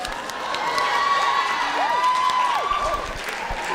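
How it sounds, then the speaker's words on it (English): Women in a comedy show audience clap and cheer, a sustained wash of applause with shrill whoops and whistle-like cries rising over it, steady for several seconds. "Look at all the ladies clapping."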